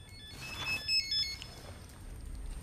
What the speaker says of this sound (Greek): Το τηλέφωνο, ρε παιδιά. Κάποιος να το σηκώσει.